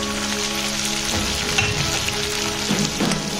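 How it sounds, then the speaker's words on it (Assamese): Onions and chopped chilies sizzle steadily in hot oil for an Assamese chicken curry, a dense continuous frying hiss with occasional stirring scrapes, close and fairly loud, with no talking. "এতিয়া আমি পিয়াজখিনি ভালদৰে ভাজি লম"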